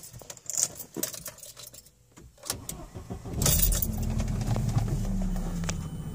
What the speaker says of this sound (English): Let me pull these keys out.